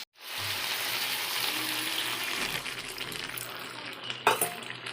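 Water poured into a pan of sizzling green jackfruit and prawn curry sets off a loud, steady hiss and bubbling that fades to a gentler simmer, with a clink of a utensil near the end.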